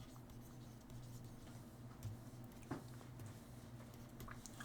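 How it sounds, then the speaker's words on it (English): Pen or pencil writing a math proof by hand, soft scratching strokes with small taps, close and quiet against a faint steady hum, no talking. "I'm just going to write inverses."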